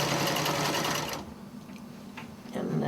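A sewing machine stitches a pocket on a tied quilt, a loud steady whir that stops abruptly after about a second and restarts near the end, with faint handling sounds in the gap.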